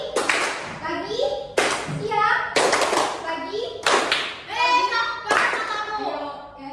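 Groups of sharp hand claps ring out in a regular pattern, each burst followed by children chanting words in unison in Indonesian, close and lively, in a classroom.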